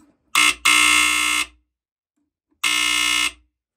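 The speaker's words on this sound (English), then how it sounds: "I'll explain why the alarms will go off to this" Harsh, loud smoke alarm buzzer blares in three bursts, a short one, a longer one, then another after a pause, with silence between.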